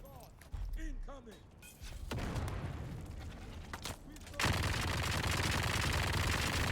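Gunfire in the survival video game Deep Desert, with bursts of shots rising into dense continuous firing that turns loud and steady near the end, over background game noise.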